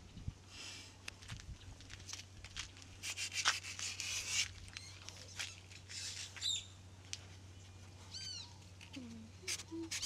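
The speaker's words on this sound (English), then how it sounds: "Sanding some of the wood trims we primed yesterday." Primed, curved wood trim being sanded by hand, with uneven scratchy rubbing strokes over a low steady hum, fairly quiet, and a few faint chirps near the end.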